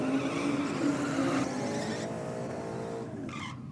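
A drag race car on 275 radial rear tyres launches down the track, a loud sustained engine roar with tyre noise that holds steady for several seconds before tailing off slightly.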